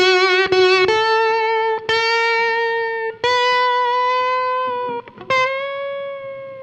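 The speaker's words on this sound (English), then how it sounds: "You don't want your bent strings to sound like this." Electric guitar with overdrive plays bent string notes that land out of tune, several picked bends sliding up and wavering short of pitch, loud and close with no voices.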